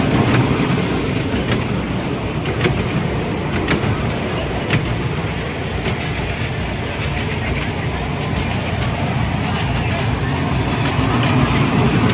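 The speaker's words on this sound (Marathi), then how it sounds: "पाहू शकता ट्रेन चालू आहे" A moving train roars steadily from start to finish, with clickety-clack wheel clatter and a constant rumble, loud and close, with faint talk beneath.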